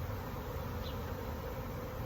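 Honey bees buzz continuously around an opened hive during an inspection, a dense close swarm hum with no voices.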